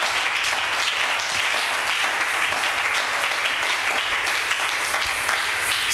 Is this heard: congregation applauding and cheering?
yes